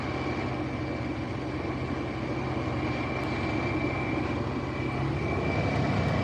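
A vehicle engine idles steadily in a blizzard on a cattle-feeding run, a constant low drone with a faint whine, unbroken for several seconds and with no talk.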